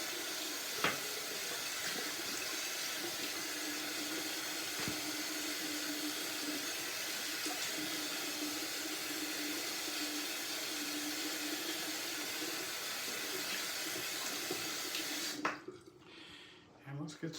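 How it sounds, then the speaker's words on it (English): Water from a running tap rinses the handle of a shaving brush, making a steady, soft, even hiss that continues for most of the time before cutting off near the end. "So we're gonna rinse off the brush handle."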